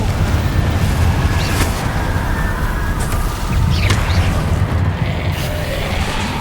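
Incendio fire spell cast in Hogwarts Legacy: a loud, continuous roaring rush of flame that holds steady throughout, with faint whooshing streaks over it.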